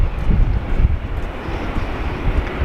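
A Jetstar airliner taking off at Sydney Airport on a windy day: a loud, continuous low engine roar that stays steady across the clip, heavily mixed with gusty wind buffeting on the microphone, no talking.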